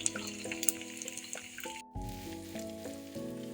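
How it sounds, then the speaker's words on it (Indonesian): Eggs frying in a pan for a tortilla breakfast, a steady close sizzle with some crackle, with faint tonal sounds layered over it and a short break partway through. "Nah, ini aku ceplok dulu telurnya ya guys."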